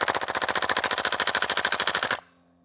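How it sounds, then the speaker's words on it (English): Double Eagle DWS Lupus airsoft rifle firing a sustained full-auto burst of roughly two dozen rapid, evenly spaced shots, loud and close, ending abruptly as the magazine empties, leaving faint mechanical noise. "we're going to switch it off into fun mode and see if it can't fare a mag or 2 on auto"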